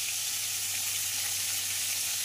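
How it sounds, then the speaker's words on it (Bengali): Bombay duck (lote fish) coated in salt and turmeric fries in a pan, a steady close hiss of sizzling oil that stays constant throughout, with no voices. "এই দেখো মাছটা, এই দেখো ভাজা বসিয়েছি"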